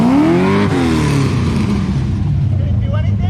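A drift car's engine revs hard in an attempted burnout, a loud close roar that climbs and then falls away. Voices talk over it.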